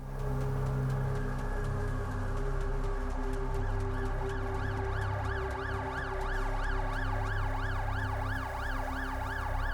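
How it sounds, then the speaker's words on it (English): An ambulance siren wails in the video game The Alters, loud and continuous, its warbling rising-and-falling tone speeding up over a low rumbling background, with no talking. "Ambulance."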